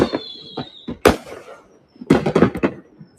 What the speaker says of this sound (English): I never have to travel to see a fireworks show.